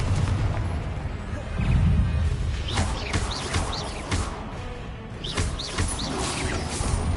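Confringo and Incendio spell blasts in Hogwarts Legacy, a string of booming bursts and whooshing impacts over a dense rumbling game backdrop, loud and irregular.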